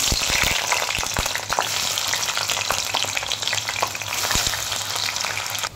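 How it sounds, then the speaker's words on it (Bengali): Steady, dense sizzle of food frying in a pan, with occasional sharp crackles and a few soft clinks of stirring throughout. "তো এখন পনিরটিকে হালকা ফ্রাই করে নেব।"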